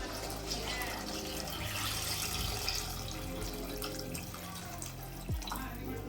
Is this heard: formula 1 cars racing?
no